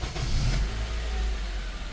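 A 2007 Honda CR-V with a P0304 cylinder misfire code being started: a brief cranking burst gives way to a steady, low engine rumble close by, with no voices.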